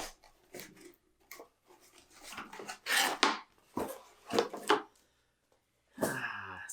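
A knife slicing open the cardboard shipping box of an iPhone 11, close scraping and ripping strokes in several uneven bursts, with short quiet gaps between cuts.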